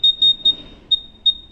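An electronic metal detector used to check jewellery shop workers gives five short, shrill beeps in an uneven rhythm, loud and close, while its setting is adjusted.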